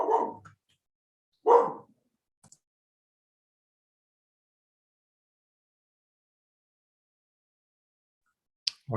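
A dog barks indoors, two short loud barks close together, then silence, with a faint yelp near the end.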